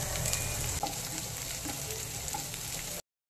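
Onion frying in hot oil alongside garlic, a close, continuous sizzle with stirring scrapes and occasional pops, steady for about three seconds before cutting off.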